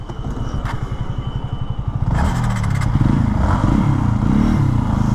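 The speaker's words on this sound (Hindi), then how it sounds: "मैं चलाने वाला हूँ Apache R T R two hundred we B S four" A TVS Apache RTR 200 4V motorcycle idles with a fast, even thump, then revs up and pulls away in a rising, strained engine roar close by.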